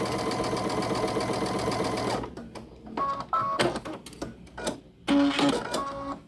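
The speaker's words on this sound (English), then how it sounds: "So we're sewing this piece on, and then we're sewing the other background piece on the other side." Sewing machine stitching quilt block pieces, a steady fast mechanical whir for two seconds and then short stop-start bursts of stitching, close and clear.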